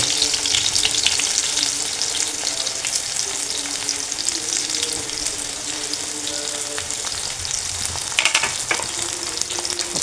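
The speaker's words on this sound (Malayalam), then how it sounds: "ഉലുവ പൊട്ടാൻ തുടങ്ങിയിട്ടുണ്ട് കേട്ടോ" Fenugreek seeds spluttering and crackling in hot oil while cooking Maachaan fish mulakittathu, a steady close sizzle throughout with scattered pops and a brighter burst near the end.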